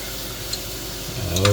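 A soft steady sizzle of condensed milk poured into hot brown butter fills a short moment, growing a bit louder at the end with light stirring clicks.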